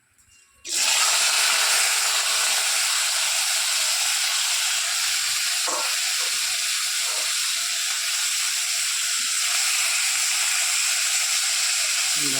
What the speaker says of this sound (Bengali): কড়াই তেল গরম হয়ে গেছে, মাছলা দিয়ে দিই।